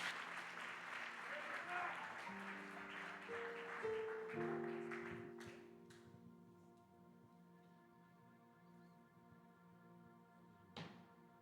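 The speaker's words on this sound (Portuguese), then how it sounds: "aplaude ao Senhor Jesus." A church congregation applauds in a moderate wash of clapping mixed with sustained keyboard-like tones. The applause fades out over several seconds, leaving quieter ringing notes and a couple of isolated knocks.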